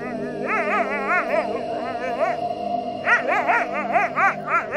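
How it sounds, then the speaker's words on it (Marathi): Several dogs at a roadside bark and yelp in quick wavering bursts toward a small girl, loud and close, with two clusters of calls separated by a brief lull. "ते सगळेच कुत्रे तिच्याच दिशेने भुंकत होते"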